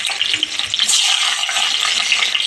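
Green chillies sizzling in hot oil in a pan for an ivy gourd chutney, a steady close crackle and hiss with no talking.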